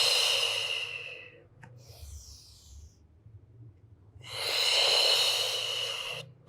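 Two long, deep breaths, a strong exhale and then another, rush close to the microphone during a Pilates spine mobility exercise, with a quiet pause between them.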